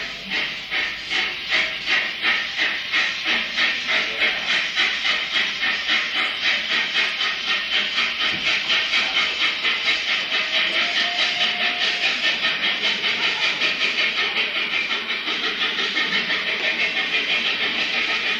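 A steam train chuffs steadily with rhythmic hissing puffs that quicken slightly, loud and continuous throughout.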